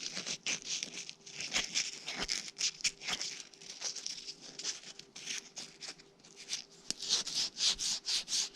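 Sandpaper rubbing a small wood-turned acorn birdhouse ornament, a steady close scratchy hiss in quick repeated strokes, rising and falling in rhythmic bursts with no talking.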